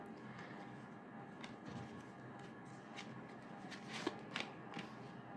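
Soft shuffling of a tarot deck, a faint, close, continuous riffle of cards with light papery ticks and a few sharper taps toward the end, no talking.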